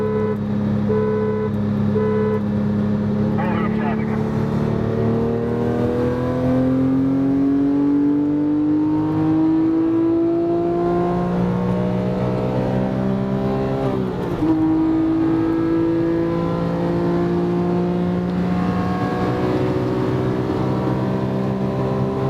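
Porsche GT3 racing a modified Subaru BRZ, steady loud engine drone heard from inside the car, pitch climbing slowly under acceleration then shifting and holding, continuous without talk.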